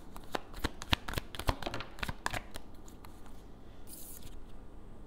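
Tarot cards are shuffled by hand at close range in a quick, rapid riffle of crisp flicks and slaps that fades into a softer rustle, with no speech.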